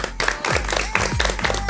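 Audience clapping at an evening singing show in France, a dense burst of hand claps with crowd noise, fairly close and continuous across the short moment.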